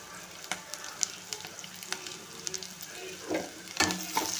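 Onions and cinnamon sizzling and frying in a pan for a potato kurma, with steady crackle and a few stirring scrapes, close and alone with no talk.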